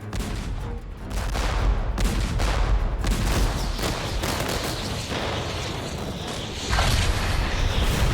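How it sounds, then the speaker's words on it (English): Continuous barrage of booming cannon fire and explosions, dense and loud with no pauses, from ship cannons firing at a Hydra in the video game Infinity Strash: Dragon Quest The Adventure of Dai. "Our cannons aren't working!"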